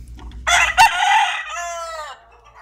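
A farm rooster crows one loud, close cock-a-doodle-doo, rising sharply then holding and trailing off, with a brief knock partway through and quiet ambient noise before and after.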